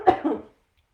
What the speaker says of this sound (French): Il faut que je tousse, excusez.